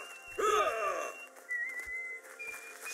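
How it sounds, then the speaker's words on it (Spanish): Janna, a League of Legends champion, whistles in a short rising-and-falling melodic flourish, followed by a few thinner sustained whistle tones, quiet and close with no speech. "Como que la bicha silba"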